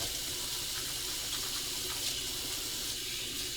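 Tap water running steadily into a kitchen sink as it fills, a continuous broadband hiss with no talking.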